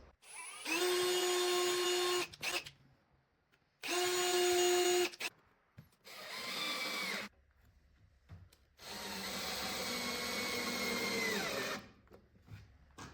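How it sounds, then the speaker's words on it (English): A power drill pre-drilling wooden bookshelf parts runs in three bursts with pauses between, a whining motor biting into wood, close and loud, the last run longer and rougher. "pre-drill the back side of this."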